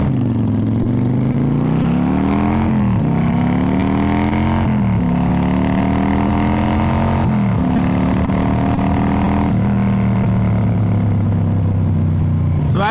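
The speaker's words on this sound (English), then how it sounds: "even though it's a little smaller of a bike, it still handles the freeway speeds really good" A Yamaha V-Star cruiser motorcycle on the freeway gives a loud, close engine drone whose pitch climbs steadily, drops briefly at each gear change, then climbs again before settling into an even cruising note.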